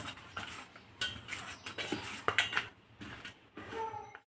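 Washed fish being mixed with turmeric and salt in a metal bowl, a quick series of close clinks and scrapes of utensil against dish, uneven and busy.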